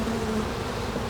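Honeybees hum in a dense, continuous buzz at an open beehive, loud and close throughout with no pauses.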